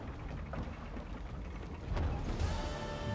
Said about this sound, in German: Die Tore öffnen sich.